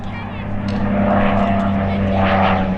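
A Spitfire Mk.V propeller fighter drones loudly overhead at an airshow, its steady engine hum swelling and rolling as it passes, under a commentator's voice.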